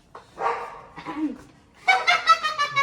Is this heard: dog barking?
yes